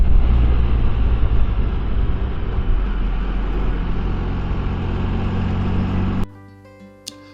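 A 2022 Can-Am Spyder RTL three-wheeled motorcycle on the move gives a loud, steady engine and wind roar for about six seconds. The sound then cuts off abruptly, leaving a quiet tonal remainder.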